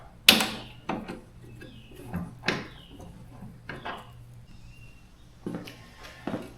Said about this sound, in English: Just take these bolts out.